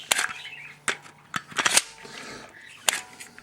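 Glock 22 pistol fitted with a Ghost Inc. X-Mag extended magazine release, the magazine inserted and released in a few sharp, close metallic clicks and snaps separated by short pauses.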